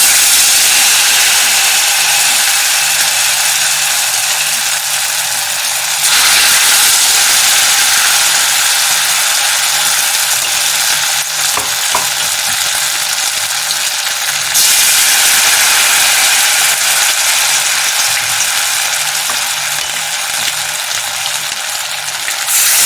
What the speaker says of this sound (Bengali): এখন আমি এই মাছগুলো তেলের মধ্যে একটা একটা করে